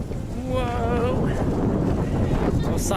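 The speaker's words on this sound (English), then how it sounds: "Osaka, the windiest city in the world. Yeah, it's getting windier." Strong wind buffets the microphone on a beach in Osaka, a loud steady rumble running the whole time, with people talking over it.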